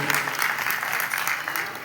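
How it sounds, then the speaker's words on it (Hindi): Loud, steady applause from an audience at a musical party honouring city dignitaries, dense clapping sustained with no pauses. "जरा जोरदार से तालियां हो जाए।"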